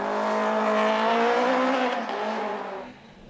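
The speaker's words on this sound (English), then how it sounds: "Brent Taylor getting to grips with the rear-wheel drive FT86. Great sounding car though." A Toyota FT86 rear-wheel drive rally car at a gravel rally in Otago, its engine revving hard and close with a rising, harmonic-rich whine before easing off and fading.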